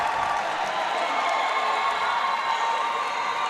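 Roller derby spectators at a men's world cup game cheer and shout loudly in a large venue, a steady roar of crowd noise sustained throughout.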